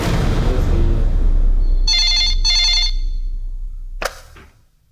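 A telephone rings twice in a Hindi action film, two bright electronic trill bursts standing out over fading background score, then a sharp bang-like click as the call is answered.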